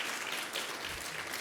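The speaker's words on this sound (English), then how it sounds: "Give yourselves a round of applause for being here on this day and in this moment" Applause from a conference audience at an Asian American business roundtable opening session, a continuous even spread of clapping at moderate level.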